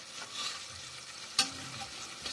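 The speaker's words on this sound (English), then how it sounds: "stir fry up a little bit. Bunjay a little bit." Chicken curry stir frying in a pot, a steady close sizzle with soft stirring scrapes and one sharper clack of a utensil midway.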